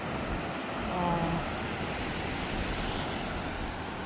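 Ocean surf rolls and washes steadily along a beach where people are surfing, a broad continuous rush with wind buffeting the microphone and a faint voice briefly in the background.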